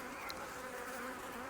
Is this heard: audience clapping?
no